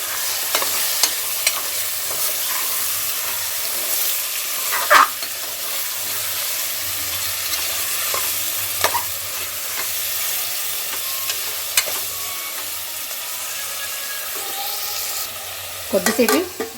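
Mutton being stirred and fried in oil for a simple mutton curry, a steady close sizzle with scattered scraping clinks of the spoon and a burst of stirring near the end, no talk.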